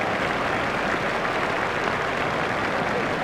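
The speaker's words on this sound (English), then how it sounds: "Crowd are standing to applaud him" A cricket crowd at a South Africa versus West Indies one-day international applauds a batsman's century, with broad, steady clapping and crowd noise that continues evenly throughout at moderate volume.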